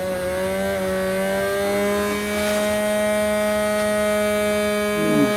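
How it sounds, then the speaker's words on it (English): A small half-amp electric motor runs off a water-based supercapacitor, giving a steady whine with clear harmonic tones that hold evenly, then a brief scuff near the end. "That's a 1/2 amp motor."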